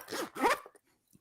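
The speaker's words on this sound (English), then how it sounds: "Who's zipping stuff? I just heard zip," A clothing zipper is pulled twice in quick succession, two short close rasping zips followed by near silence and a faint rustle.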